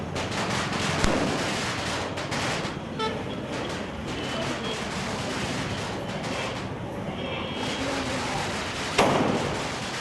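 Diwali firecrackers burst in a loud, dense crackle of pops and snaps, with a few sharp bangs standing out and horn-like toots mixed into the festive din.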